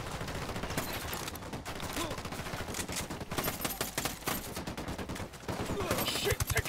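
A sustained firefight in Ghost Recon Wildlands: rapid machine-gun bursts and overlapping shots crackle continuously, growing louder toward the end, with some voices mixed in beneath the shooting.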